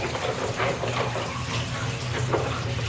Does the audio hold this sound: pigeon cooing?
no